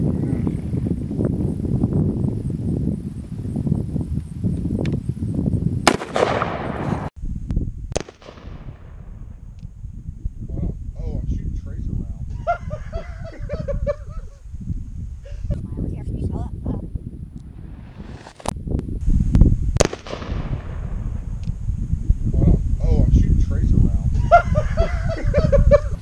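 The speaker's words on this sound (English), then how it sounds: "I accidentally shot tracer rounds." 5.56 tracer rounds fired into a book outdoors, heard as a few loud, sharp gunshots at irregular intervals between stretches of talking and wind noise.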